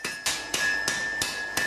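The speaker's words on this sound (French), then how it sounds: "Donc, on va l'amener au marteau." A hammer forges a knife blade at a cutler's workshop, sharp metallic strikes landing about every third of a second in a steady rhythm, each with a bright ringing tail from the anvil.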